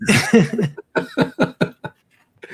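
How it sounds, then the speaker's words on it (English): A person coughs several times in a quick series of short, harsh bursts, close and loud, then falls quiet. "I'm coughing here."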